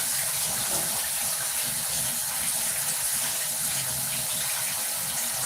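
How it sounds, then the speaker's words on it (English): Hair being dipped into water for wetting, heard as a steady, close rushing and gushing of water that holds evenly throughout with no talking. "You dip it in the water."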